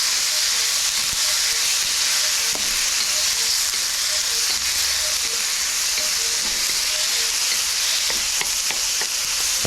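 Chives and tomatoes sizzle in a hot wok with a loud, steady frying hiss, with faint scraping and stirring ticks and no talking.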